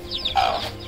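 Chickens cluck softly and steadily while pecking at scattered wheat grains during feeding, a short burst of close, moderate-level fowl calls with no talking.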